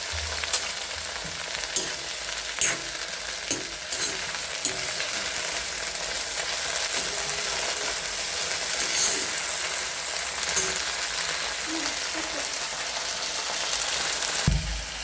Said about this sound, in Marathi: ही गवार आपली चांगली परतून घ्यायची